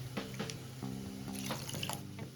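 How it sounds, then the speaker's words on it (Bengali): Water pours into a pan for a Bengali chitol fish curry, a soft steady splashing and trickling with a few brighter splashes, quiet and close, no talking. "তো এবারে জল দিচ্ছি জলটা মোটামুটি দেব পরিমাণ মতো"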